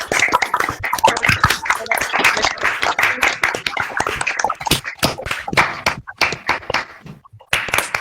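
An audience applauds a speaker at the end of a university conference talk. Dense clapping runs for several seconds, then thins out into scattered individual claps.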